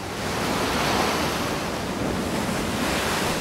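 Waves washing onto a small, secluded beach in North America, a steady loud roar of surf with wind buffeting the microphone and no voices.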